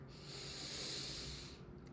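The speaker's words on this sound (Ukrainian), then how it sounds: "Зробіть глибокий вдих." One deep, slow breath drawn in through the nose, a soft airy hiss up close that lasts nearly two seconds, taken during a guided meditation practice.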